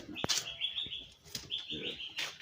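Nightingale singing sweetly outdoors, quiet whistled phrases with short chirps repeating over a few seconds, faint and somewhat distant.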